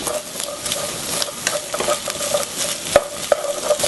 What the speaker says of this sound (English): Radish first, because the radish has to be cooked really thoroughly.